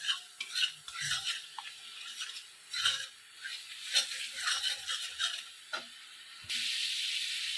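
Mustard paste spice mix frying in oil for a vegetarian eggplant curry, a soft steady sizzle with occasional stirring scrapes, fairly quiet.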